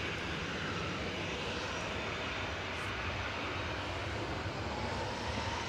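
An airplane's engines roar steadily at Manchester Airport, a broad, even wash of noise heard from a distance that holds constant with no speech.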